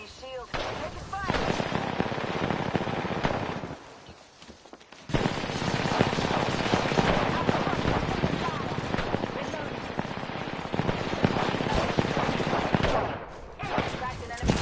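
Dense, loud gunfire rattles through an Apex Legends firefight, with near-continuous bursts and a brief lull midway before the shooting resumes just as heavily. A voice is heard at points under the din.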